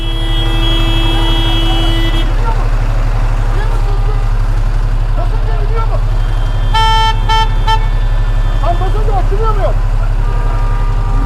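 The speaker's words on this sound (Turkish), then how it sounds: "Biri başlattı yine korna savaşını." Car horns honk in heavy traffic, heard from a motorcycle, with a long blast at first and then a burst of short repeated toots over a constant engine drone and voices.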